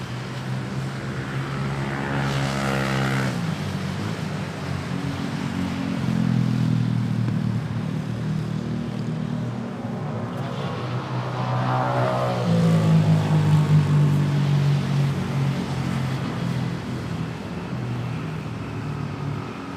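An ATR 72 turboprop airliner roars at an airport, its propellers giving a loud, steady drone that swells and eases over about twenty seconds, with no talk over it.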